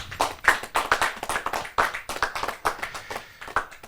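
Audience applause at a kavi sammelan poetry gathering, a few seconds of close, uneven hand clapping from a modest crowd with no talk over it.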